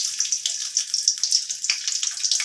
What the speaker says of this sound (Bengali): রসুনটাকে এখন আমি লাল করে ভেজে নেব প্রথমে